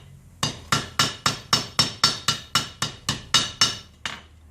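A hammer strikes silver ring stock on an anvil: about a dozen sharp, ringing metallic blows at a steady, even pace. Each blow rings briefly before the next, and they are close and loud with no talking.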